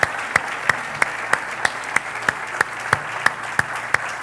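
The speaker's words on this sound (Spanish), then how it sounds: "Dale un aplauso al Señor, vamos." A church congregation applauds the Lord during a sermon, a dense steady wash of clapping with one sharp hand clap repeating in a quick even rhythm over it.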